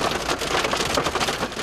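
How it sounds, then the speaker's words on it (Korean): Heavy rain turning to fingernail-sized hail pelts a car on a road, a loud dense continuous drumming and spattering close on the roof and glass, no talking. "급기야 비가 우박으로 바뀌어 쏟아지기 시작합니다."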